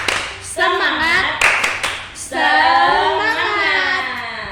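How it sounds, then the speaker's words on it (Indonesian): Kindergarten children clapping a rhythmic chant, sharp sets of hand claps alternating with children's voices chanting together in a classroom, close and loud. "Oke, kita tepuk semangat dulu."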